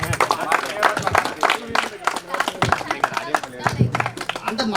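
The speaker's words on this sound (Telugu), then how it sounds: "అది మీకు ప్రత్యేక ధన్యవాదాలు చెప్తూ క్లాప్స్ కొట్టండి" An audience claps at a school reunion gathering for a 2010-11 SSC batch of a high school, producing dense, scattered clapping that sounds close and moderately loud throughout.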